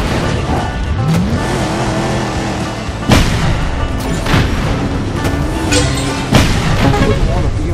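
Rockets explode during a Cars video-game race, giving two sharp booms over the constant whine and roar of racing car engines and squealing tires. A few earlier bangs punctuate the continuous racing din.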